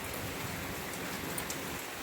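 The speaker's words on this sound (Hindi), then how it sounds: "बारिश तो बहुत तेज़ हो रही थी" Heavy rain pours steadily on an early-morning monsoon day, a dense, even wash of drops with no pauses and no voices, close and fairly loud throughout.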